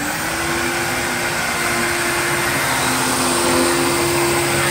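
A vacuum cleaner runs continuously up close, a loud steady whine and roar with a constant motor hum and no pauses.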